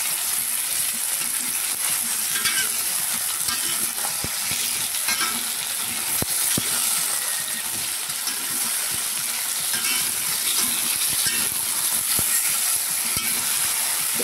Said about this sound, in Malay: Kita gorengkan dia dulu supaya air dia keluar.